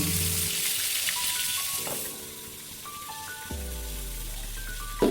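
Sliced white egg brinjal sizzles steadily in two tablespoons of mustard oil in a frying pan, a soft continuous crackle with a few brief clinks along the way.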